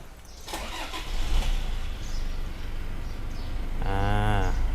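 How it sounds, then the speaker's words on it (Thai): A Toyota Fortuner Legender 2.8 4WD starts up at the push of a button, with a loud close cranking whir followed by the diesel engine catching and settling into a steady rumbling idle. "ผมเหยียบเบรกแล้วก็กดปุ่มสตาร์ทได้เลย"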